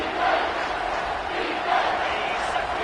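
A football stadium crowd roars steadily and loudly before a third-down play, a dense wall of voices that swells and recedes slightly, with no clear talk above it.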